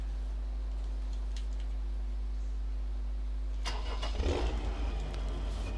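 A Schluter tractor engine in a farming video game cranks and catches after a steady low hum, then settles into a rough, rumbling mid-pitched idle that fills the rest of the moment.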